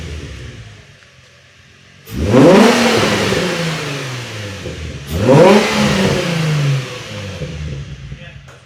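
A Nissan 350Z fitted with a Z1 touring exhaust is revved twice up close, each loud burst climbing sharply and then falling back to a steady idle.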